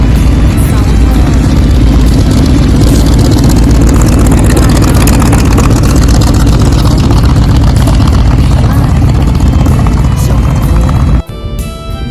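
A T-28 aircraft's radial engine runs loud and steady before takeoff at a Lao Hmong memorial event in Colorado, a continuous heavy rumble that cuts off abruptly near the end.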